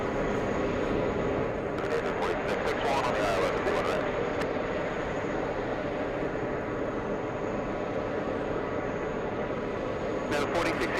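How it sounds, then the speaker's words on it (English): An EVA Air cargo plane at JFK airport bound for Anchorage: a constant, loud jet engine roar, with brief bursts of louder rushing noise and a faint voice talking under it. "Big plane, we have a Taiwanese cargo plane."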